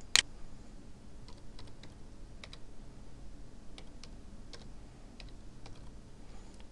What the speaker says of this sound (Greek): Για να επισκεφτούμε μία διεύθυνση στο παγκόσμιο ιστό, αρκεί να την πληκτρολογήσουμε στη γραμμή «Διεύθυνση».